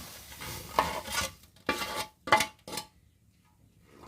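A spoon scrapes and stirs rice flour into boiling water in a pot, a few distinct bursts of stirring separated by short pauses, fairly close.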